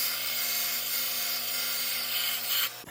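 A 2.5 inch hole saw on a power drill cuts an opening during a truck camper modification, giving a steady humming whine with gritty cutting noise that stops abruptly near the end.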